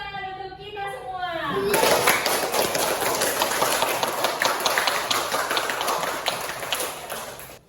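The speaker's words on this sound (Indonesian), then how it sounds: "Maka dari itu kita tepuk tangan untuk kita semua" An elementary school class claps hands together in a classroom, a dense burst of applause rising and holding steady for several seconds, with children's voices mixed in.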